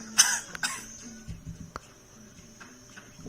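A character's cough in a cutscene from the Crash Twinsanity video game, a couple of short, rough bursts near the start followed by faint clicks and quiet background sound.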